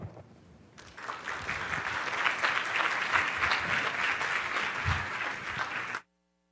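Audience applause for four presenters at a foundation centennial event, a dense, steady roar of clapping that swells after a quieter start and holds loud before cutting off abruptly.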